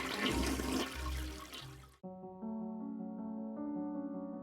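A toilet flush roars with rushing water for about two seconds and cuts off abruptly, followed by a tonal, humming refill that sustains steadily to the end.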